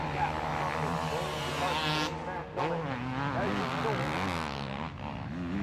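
Motocross bikes charging up Hawkstone Hill at Hawkstone Park, engines whining and rising in pitch as they climb, loud and sustained, with a commentator talking over them.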